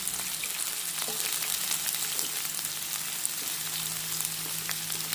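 Garlic, onion and scallion frying in coconut oil in a pot, a steady bright sizzle with crackling pops and occasional stirring, close and continuous with no talking.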